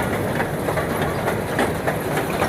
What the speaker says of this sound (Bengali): বাচ্চাদের ট্রেন